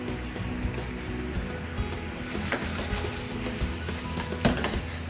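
Fried pork ribs tossed with holy basil in a hot pan, a steady dense sizzle and scraping stir-fry noise with occasional clanks of the utensil against the pan throughout.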